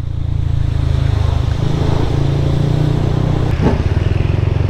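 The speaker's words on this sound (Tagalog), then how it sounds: "Ang lakas ng motor ni Began." A Yamaha Aerox scooter engine runs loud and close while riding, a steady throbbing hum with a slight rise and a brief clatter partway through, with no talk.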